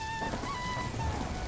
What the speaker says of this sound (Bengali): আজকে যখন বাইরে এত সুন্দর বৃষ্টির শব্দ হচ্ছে